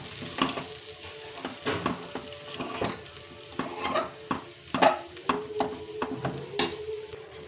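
Roasted peanuts are tipped into wheat rava and vermicelli upma and stirred in a pan, with repeated close metallic clinks of a spoon against the pan over a light sizzle.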